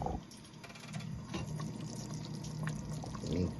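Water is poured into a pot of browning oxtail stew, a faint splashing, gurgling pour that runs steadily for a few seconds at low volume, with no talking.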